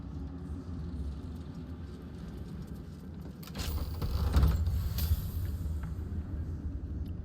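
Door in Baldur's Gate 3 being unlocked and opened, a mechanical clunk followed by a low creaking, rumbling swing that rises mid-clip and then settles, no talk.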